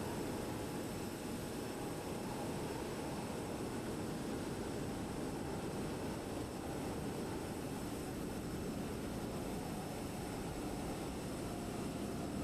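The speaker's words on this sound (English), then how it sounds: "Another aircraft moving behind us" Steady broadband jet engine roar from an aircraft taxiing behind an easyJet airliner at Milan Malpensa in Microsoft Flight Simulator 2020, a continuous loud wash with no talking.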